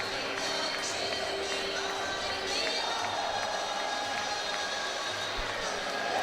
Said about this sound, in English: Both sides applauding their supporters.